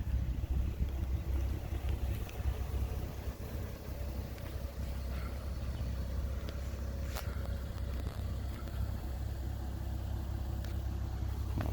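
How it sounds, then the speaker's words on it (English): A 2010 Infiniti G37X with a custom exhaust of Flowmaster FX mufflers, a Borla X pipe and 4-inch tips gives a steady, loud low rumble throughout, with some wind noise over the microphone. "Flowmaster FX mufflers with a Borla X pipe muffler."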